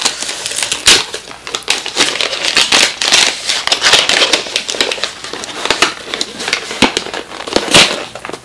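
Masking tape and clear scotch tape are torn and peeled from a sealed gift package, producing dense crackling, crinkling and ripping bursts close by that run continuously with sharper snaps throughout.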